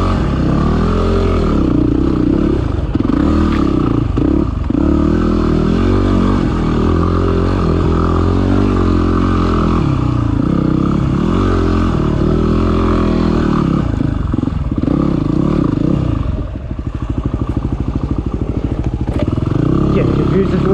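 Enduro motorcycle ridden off-road in first gear through the Julimar area, its engine close and loud with a constant labouring drone, uneven revs and clattering over rough ground throughout.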